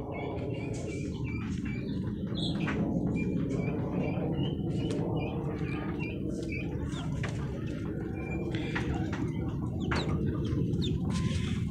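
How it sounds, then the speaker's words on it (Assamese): Hens on a small local poultry farm of about 300 birds in Sirajuli, Assam, cluck and chatter continuously as a dense flock, with sharper individual calls over a constant low background. "মোৰ বৰ্তমান ফাৰ্মত 300 মুৰ্গী আছে।"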